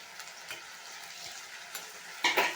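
Chopped tomatoes and onions sauté in a pan with browned ginger-garlic paste for a mutton kulambu, giving a steady close sizzle broken by a few stirring scrapes.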